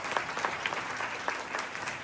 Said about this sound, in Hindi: मैं चाहूंगा कि लखन सर के लिए जोरदार तालियों से स्वागत हो।